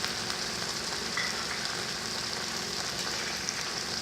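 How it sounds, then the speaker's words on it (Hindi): Spice paste for a Mithila-style fish curry fries in a pan with a steady, close, dense sizzle and faint stirring scrapes, no voices. "अब इसको हम इसमें डाल के फ्राई कर लेंगे"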